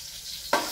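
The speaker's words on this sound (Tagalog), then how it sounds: "Tapos igisa na natin ito." Silence gives way to a sudden, sharp sizzle as food is dropped into a hot pan for sautéing, the frying hiss staying bright and close after the onset.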